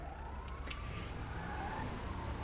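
A police car siren in a video game wails in a faint rising and falling sweep under a low engine hum, distant and steady across the short stretch.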